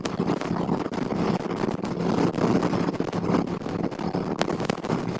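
A Triumph Speed Twin motorcycle fitted with a Tec exhaust rides along with a steady, continuous engine roar. Heavy wind rush runs through the whole stretch, and the level stays fairly constant.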